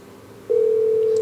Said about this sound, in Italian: dovrebbe squillare il telefono.